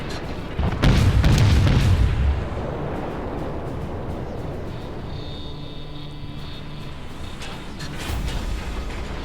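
Naval gunfire from a cruiser firing on a battleship in a naval combat video game: a loud, deep boom near the start rolls into a long fading rumble, then a lower-level salvo thump arrives near the end over steady background noise.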